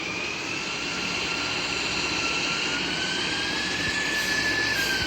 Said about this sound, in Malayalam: അതുകൊണ്ട് മാത്രം നമ്മൾ ജെറ്റ് പാക്ക് എടുക്കുന്നത്.